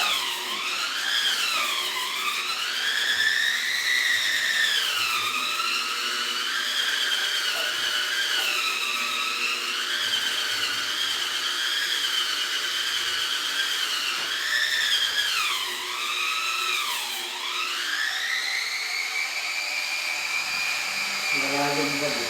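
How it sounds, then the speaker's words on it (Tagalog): A sanding machine with sandpaper grinds in a continuous high, whining buzz whose pitch dips and rises as the load changes, loud and close throughout. "Gamit natin ang liha."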